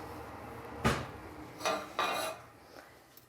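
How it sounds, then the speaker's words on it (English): A medium cooking pot is lifted out and set down in a home kitchen, giving a few brief metallic clanks and knocks spaced over a few seconds, moderately quiet and with no talking. "So I'm just going to take a medium pot"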